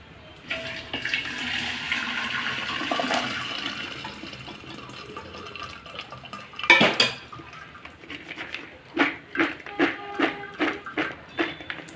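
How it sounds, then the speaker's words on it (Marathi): Water drains from a pot of boiled mango seed kernels in a home kitchen, with metal pot and utensil clatter and splashing. A run of sharp rhythmic clanks and scrapes follows toward the end. "आता आपण ह्याच्यातलं पाणी काढून घेऊया।"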